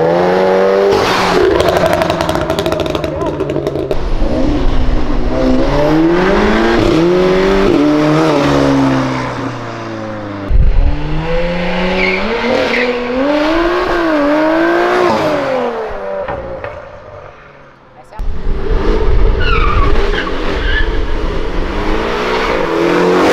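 A Porsche accelerates hard past on a street, its engine revving up through rising gears with tire squeal, loud and close, briefly dropping off before surging again.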